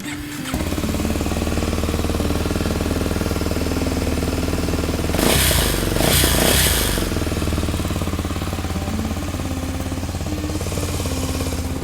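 A 2015 Kawasaki Ninja 250 SL ABS motorcycle engine runs with a steady, loud, close-up mechanical drone, rising briefly in the middle into a harsher revving burst before settling back to a steady run.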